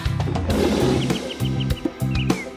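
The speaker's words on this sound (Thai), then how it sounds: "ร้องดังร้องดังในป่าเขา เจ้าไดโนเสาร์คู่ร้องคำราม" A dinosaur roar sound effect in a children's animal song, a loud close growling roar with rough low rumbles in bursts, mixed with faint bird-like chirps.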